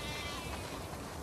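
Sheep bleat continuously in a farm scene from The Last of Us Part II, a dense layered flock calling together, steady and fairly close with no speech.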